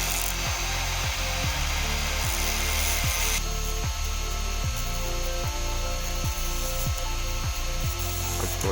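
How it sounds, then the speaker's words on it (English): Angle grinder cutting screws to length outdoors, a continuous loud whine with about a dozen regularly spaced dips as each cut bites into the metal, no talking. "take them out back and use an angle grinder to cut them to length"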